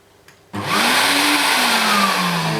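A Hoover Aquamaster S4470 vacuum cleaner switches on from near silence and surges into a loud, steady whooshing roar, its motor pitch rising then settling close by.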